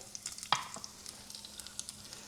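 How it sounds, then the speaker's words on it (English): Ginger sizzling in a hot pan while being tossed and stirred, faint crackles and a sharp scrape or two over a quiet background. "We're gonna add half of the ginger like the recipe calls for. Give that a good toss. Stir until fragrant."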